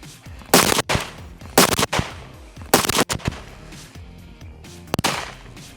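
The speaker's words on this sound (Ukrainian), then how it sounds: "Три постріли." Loud rifle shots ring out outdoors at a military shooting range: three sharp single-fire cracks about a second apart, then one more after a pause.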